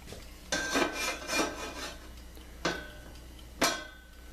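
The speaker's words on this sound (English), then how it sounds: "Saute the vegetables." Vegetables sautéed in a pan with a narrow, makeshift spatula: a few scraping, rasping strokes, close and moderately loud, in bursts separated by short quiet gaps.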